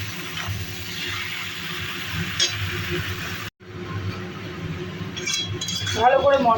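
Boiled pumpkin greens are stirred with spices in a pan, with scattered metallic clinks and scrapes of a utensil against the pan over a low background hum.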